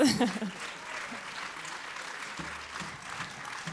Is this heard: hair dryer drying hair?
no